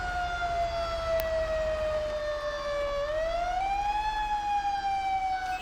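An emergency vehicle siren in GTA 5, a fire truck in a firefighter mod, wails steadily and loudly with a long falling then rising sweep, over a constant low engine-like rumble, with no voices.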